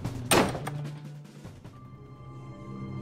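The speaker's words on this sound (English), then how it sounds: "The door slammed shut." A door slams shut with a single sharp, close thud, followed by a lingering low rumble and quiet room tone.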